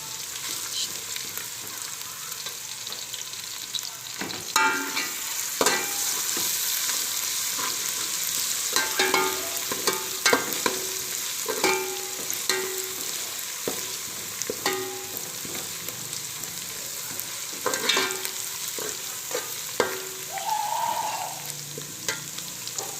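Chana biryani ingredients sizzling steadily in a pan on the stove, a continuous close frying hiss broken by repeated scraping and clinking strokes of a spoon stirring the mixture, with no talking.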